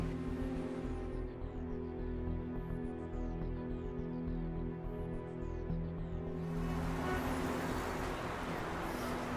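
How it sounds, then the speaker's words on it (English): Road traffic in Yangon city rumbles steadily, with engines droning and a vehicle passing close, the noise swelling broader and louder toward the end. "Traffic jam is the most pollution problem in Yangon."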